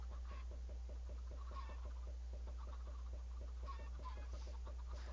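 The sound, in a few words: chickens clucking in Minecraft video game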